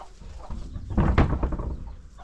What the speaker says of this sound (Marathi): अशा सगळ्या प्रकारच्या मिक्स कोंबड्या ठेवलेल्या आहेत इकडे